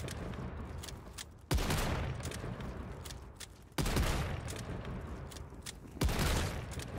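Three heavy bursts of gunfire from a point-building gun in Call of Duty Zombies, each a loud broadband blast about two seconds apart, trailing into a sustained rumbling wash between shots.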